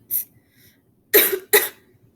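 Three coughs, one faint and brief, then two loud, harsh ones close together, up close with no talking.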